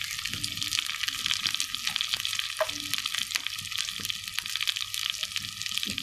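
Water poured over spices frying in a pan, with ginger and cumin among them, gives a steady close crackling sizzle with small pops and spits throughout and no voices.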